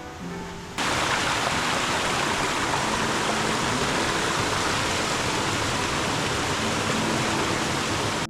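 A mountain stream on a Mudeungsan hiking trail rushes in a steady, dense broadband wash that starts abruptly after a brief quieter moment, then holds loud and constant, without talk.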